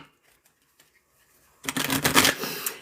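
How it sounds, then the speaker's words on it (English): A deck of tarot cards is shuffled close by in a quiet room, a dense riffling flutter that starts abruptly after a near-silent stretch and runs for about a second. "I'm gonna get the cards set up."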